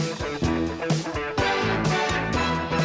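Energetic Magnum P.I. TV detective drama theme music with punchy drum hits and bright melodic instruments plays at full volume, with no voices.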